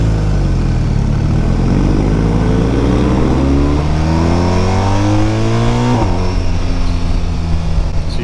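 A BMW motorcycle, likely a performance model such as the M1000XR, accelerates hard through the gears, its engine revving high with rising pitch sweeps and a gear change, loud and continuous throughout.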